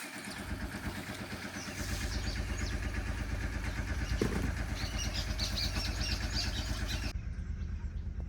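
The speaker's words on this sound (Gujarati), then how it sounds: "પપ્પાએ ટ્રેક્ટર ચાલુ કર્યું" A farm tractor engine starts and settles into a loud, steady diesel chug with a regular low pulsing throb. A faint voice can be heard near the end as the engine keeps running.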